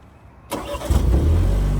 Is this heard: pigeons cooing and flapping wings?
no